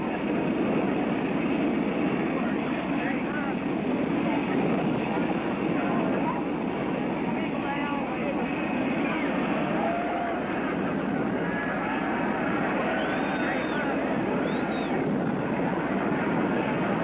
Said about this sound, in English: Here comes the big jet in.